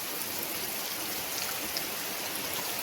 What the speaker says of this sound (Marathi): जायच्या टायमाला पाऊस चालू झालाय